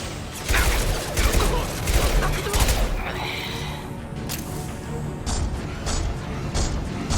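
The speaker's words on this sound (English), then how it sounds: "Firing now." Gunfire in the video game Mass Effect 2, several loud bursts of shots and booms in the first seconds, then more scattered cracks over background game noise, with a voice talking over it.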